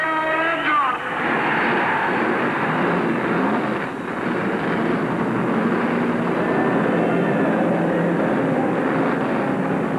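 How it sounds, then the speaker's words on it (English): 1971 NASCAR Grand National stock cars, Plymouths, Mercuries and Chevrolets, start their engines at Darlington Raceway for the Southern 500, a dense sustained roar of many engines filling the track under a commentator's voice. "Gentlemen, start your engine!"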